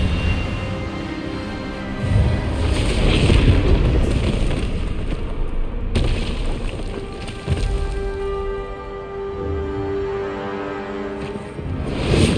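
A spell blast in the Hogwarts Legacy video game, heard as a loud, sustained roaring whoosh of magical energy with crackling bursts and a sharp impact around the middle, dense and continuous throughout.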